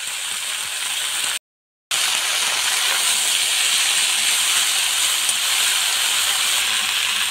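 Saag greens dropped into hot oil with already-fried garlic, a steady bright sizzle and hiss running continuously, briefly cut off for a moment before resuming at the same loud, even level.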